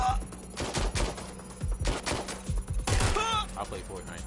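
Rapid gunfire in Watch Dogs Legion, choppy bursts of close shots and short automatic strings, with voices talking over the shooting.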